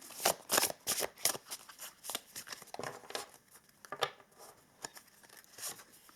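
Oracle cards are shuffled by hand up close, giving quiet, uneven bursts of riffling and flicking that continue throughout.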